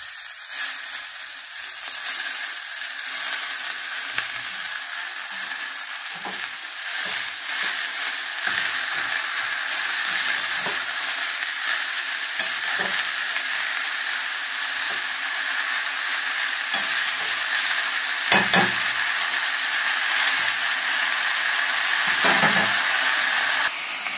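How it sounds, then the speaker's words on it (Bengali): Spinach fries in a pan with ginger, spices and turmeric, a continuous close sizzling hiss broken by occasional scraping stirs and clinks of the utensil against the pan. "পালং শাকগুলো দিয়ে দিলাম।"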